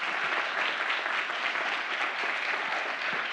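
An audience applauds at a 2019 pitch competition awards event, dense, even clapping from a crowd that holds steady throughout with no talking over it.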